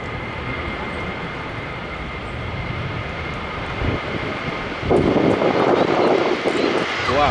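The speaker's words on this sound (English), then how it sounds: "Wow, that was a very quick takeoff." A Ryanair jet airliner taking off at London Stansted on a windy day, its engines roaring steadily and swelling louder toward the end, with a person talking now and then in the foreground.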